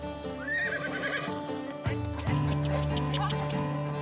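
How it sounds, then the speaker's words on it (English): Whaler horses, descendants of Australian Light Horse mounts and recently wild in the Northern Territory, neigh in a rising whinny and then a louder call, with hooves clip-clopping nearby throughout. "They're whalers, direct descendants of the legendary mounts of the Australian light horse."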